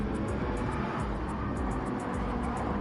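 Gr.3 race cars roar around a corner of the Tokyo Expressway East circuit in Gran Turismo 7, a steady loud blend of several engines running wheel-to-wheel, with no talk.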